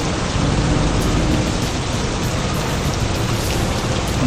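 Steady, dense rain pours down in the Truckers of Europe 3 driving game, a loud continuous hiss that fills the whole stretch without pause or voices.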